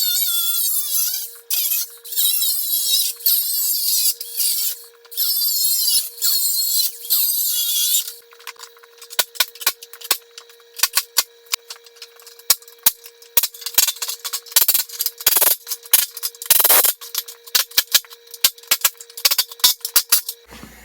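A power tool cuts through tack welds on homemade aluminum ramps: a steady high whine runs through the first eight seconds, then gives way to a string of sharp scraping and clicking bursts.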